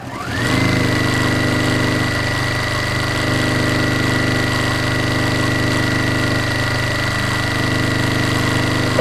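A sewing machine runs steadily while stitching a quarter-inch seam on a quilt block, giving a continuous, even motor whir with a low mechanical hum and no talking.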